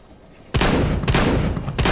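Rapid bursts of gunfire in a video game played on GeForce Now crackle loudly in three quick volleys, each starting abruptly after a moment of near quiet.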